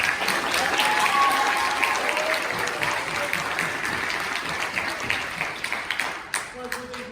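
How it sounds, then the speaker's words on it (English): An audience at the HEHS winter choral concert applauds the a cappella group Vox with full, dense clapping that slowly thins and fades, leaving a few scattered claps and a voice at the end. "So we give them a round of applause while to the stage."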